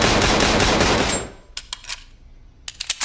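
Loud 1911 pistol gunfire in a video game, a dense burst of shots that cuts off into a brief ringing tail, followed by several fainter clicks and clacks.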